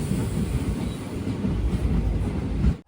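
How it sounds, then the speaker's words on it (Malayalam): Nagaland Express train rolling into Moranhat station, a loud, steady low rumble with rhythmic wheel clatter from on board, sustained for a few seconds before cutting off abruptly. "ട്രെയിൻ ഇപ്പോൾ മൊറാൻഹട്ട് സ്റ്റേഷനിലേക്ക് എത്തുകയാണ്."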